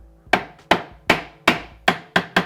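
Several sharp wooden knocks as a gluing block is tapped to seat a toolbox lid into its groove against a planed chamfer, six close, loud raps at a steady, slightly quickening pace.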